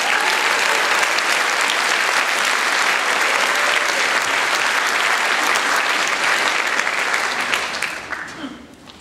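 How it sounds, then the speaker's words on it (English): A concert audience at a high school improvisational group performance breaks into dense, sustained applause that stays loud and steady before tapering off near the end. "Can we give him a round of applause before we do it?"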